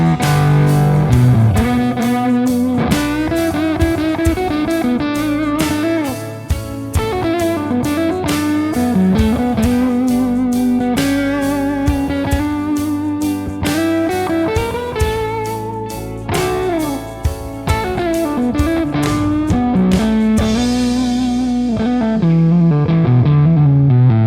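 Electric guitar played through an 11 Circuits Pointy Fuzz pedal, loud saturated fuzzy chords and riffs ringing close with sustained distortion, ending on a fading chord.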